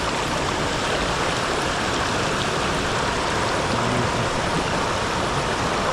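Heavy, steady roar of a rain-swollen forest river in flood, with dense rushing water noise filling the whole stretch, loud and continuous with no talk.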